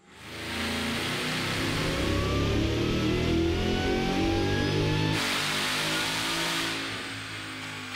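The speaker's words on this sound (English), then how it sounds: "This car is going back on the dyno to prove how much power and torque this kit can put to the" A 2018-2021 Ford Mustang fitted with a Roush Phase 1 supercharger kit revs hard on a dyno, engine pitch climbing steadily in a loud sustained pull before easing off near the end.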